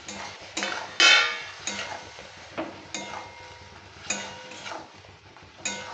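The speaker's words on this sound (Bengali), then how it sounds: "একটু নাড়াচাড়া করে নেব।" Fried okra is stirred in a simmering pan of gravy. A spoon scrapes and clanks against the pan in about seven distinct strokes, over a low bubbling sizzle, with no talking.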